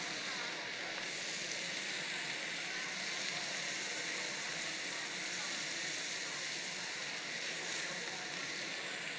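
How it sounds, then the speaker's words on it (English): Two pats of butter sizzling in a hot pan during a cooking demo, a steady close hiss and crackle lasting the whole stretch. "I'm going to add 2 pats of butter."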